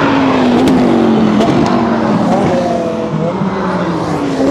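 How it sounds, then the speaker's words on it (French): A Porsche GT3 Cup race car brakes hard and sweeps past at a trackside car event, loud and close, its engine note dropping and shifting as it goes by, with no talk. "ça c'était une GT3 Cup encore une fois"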